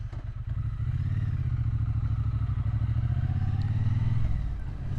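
A Triumph Bonneville T120 motorcycle rides along a quiet country lane, its low engine rumbling steadily and close, with a brief rise in revs before settling.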